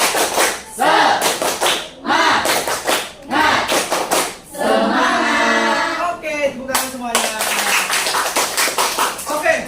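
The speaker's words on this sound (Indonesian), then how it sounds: "Oke, tepuk lagi, tepuk semangat." Students in an Indonesian classroom lesson clap a rhythmic chant together, with loud, evenly spaced bursts of hand claps and a teacher's voice talking over and between them.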